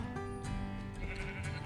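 A sheep in Minecraft gives a wavering bleat over a dense bed of game music and other sound effects, moderately loud throughout.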